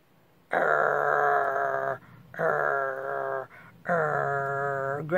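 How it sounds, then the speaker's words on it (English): A dog out on a street walk makes three long, steady vocal bursts in a row, close and fairly loud, a tonal whining growl with short pauses between, no talking. "Growling the whole way around there."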